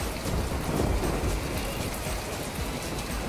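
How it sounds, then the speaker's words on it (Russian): Steady, dense rain shower pouring on surfaces with a continuous hiss and patter, loud and close, with no voices. "к счастью, дождь заканчивается"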